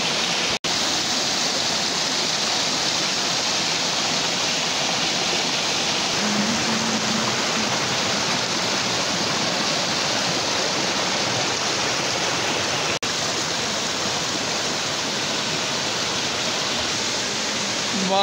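Rivers and streams in Kashmir, swollen after rain, rush in a steady, loud, unbroken roar of water throughout, close and dense with no pauses.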